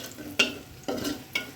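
Whole spices and aromatics tempered in hot oil for a spiced mash of mixed offal, with three sharp sizzling bursts as ingredients hit the pan, each fading into a steady crackle.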